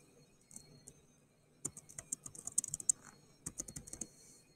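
Rapid keystrokes on a computer keyboard while typing text into Photopea, starting with a few scattered clicks, then a quick irregular burst, a short pause and another flurry, close and fairly quiet.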